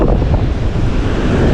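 Heavy wind buffets the microphone over roaring sea surf as a typhoon starts, a loud, dense, unbroken rush at close range with no voices.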